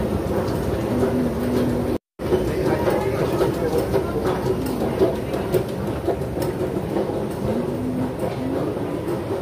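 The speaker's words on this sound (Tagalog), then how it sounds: "MTR po yun dun. It's like MRT in the Philippines." An MTR metro train rolling past at a mall, a steady low rumble with rhythmic rail clatter, with a voice heard faintly under it.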